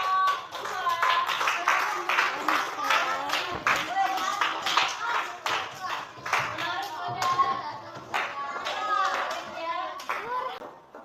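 Classroom applause for a student group, dense rapid clapping from many hands filling the room, with children's voices chattering and calling out underneath throughout.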